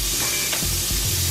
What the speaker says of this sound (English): I'm gonna add in a half stick of butter and let this melt down a little bit.